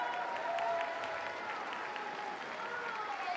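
A crowd at the Arnold Classic bodybuilding show applauds a competitor's pose, a dense, even wash of clapping heard from a distance at low volume and sustained for the whole stretch.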